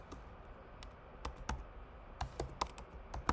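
Fingers typing on a computer keyboard, with a quiet, irregular run of close, crisp key clicks bunched into short bursts and no voices.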